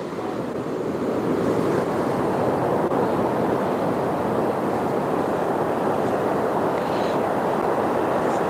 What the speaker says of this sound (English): Water draining out of the estuary mouth.